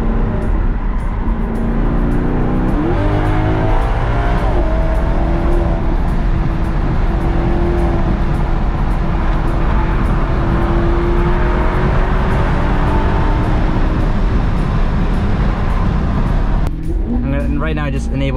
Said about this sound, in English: It's the V8 on here. It's like a symphony.